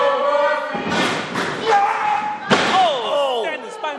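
A wrestler crashes onto the mat from a standing spinebuster, two heavy thuds close together beneath excited crowd noise and shouting voices.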